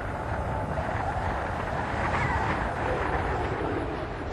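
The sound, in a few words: Space Shuttle Discovery nose gear touchdown and runway rollout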